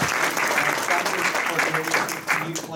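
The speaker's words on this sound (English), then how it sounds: "Please give Caroline another round of applause for really exemplifying service to ourselves." Warm round of applause at a Rotary Club meeting for a woman who has just sung, dense clapping throughout with a few voices murmuring underneath.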